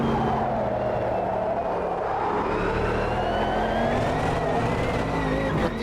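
A Porsche GT4 engine burrs steadily and loudly throughout, with a continuous rising and falling drone as it is driven hard, like a race car pushing through revs, with no voices present.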